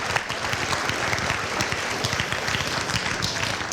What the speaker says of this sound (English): our staff are going to give you a nice round of applause right now